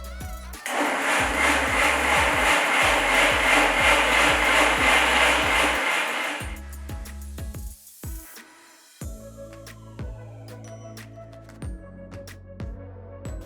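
A mixer grinder whirs loudly and steadily for about six seconds while blending mushroom soup paste, then cuts off, leaving clicks, knocks and light kitchen handling sounds.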